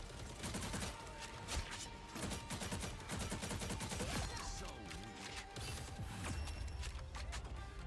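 Gunfire in the video game Marvel Rivals during a match, dense rapid bursts of shots and impacts layered with mechanical effects, continuous and busy throughout at a moderate level.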